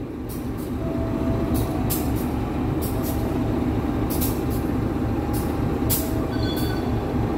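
A train, heard near the Argo Wilis and commuter services on an Indonesian railway line, rumbles steadily at a station with loud continuous wheel and engine noise and repeated sharp hisses of releasing air brakes.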